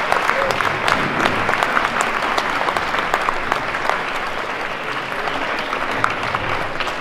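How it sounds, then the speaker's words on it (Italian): Crowd applause at an open-air festival of tavern choirs and folk songs in Bobbio, 2023: a thick, continuous patter of many hands clapping, loud and sustained throughout. "Fatevi un bel applauso."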